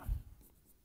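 A short scratch of writing on a board in a Class 12 maths lesson, one brief close stroke lasting under a second, with no talking.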